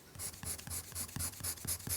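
A regular Faber-Castell colour pencil scratching across paper in quick, evenly repeated strokes, about eight close, crisp scrapes over two seconds with no voices.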